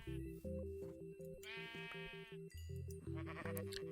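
Several sheep bleat repeatedly in the Minecraft video game, the wavering cries arriving in short bursts over a steady game music backdrop, loud and close.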